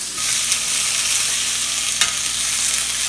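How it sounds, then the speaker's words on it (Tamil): Beans stir-fry on a high flame with a loud, dense, continuous sizzle and a few brief scraping accents. The sound is close, with no voices over it. "ஃப்ளேம் ஹைல வச்சி வதக்கிடுங்க."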